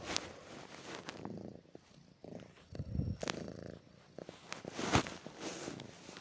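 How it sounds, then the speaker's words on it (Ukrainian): Domestic cat purring loudly and close up, a rough, rhythmic rumble that swells and fades with each breath, with a few soft rustles and clicks alongside. "мій кіт дуже жорстко вуркочить"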